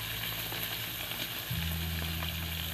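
Pechay, eggplant and okra fry in a pan with a steady broadband sizzle, close and even, while a low hum sits underneath and grows stronger partway through.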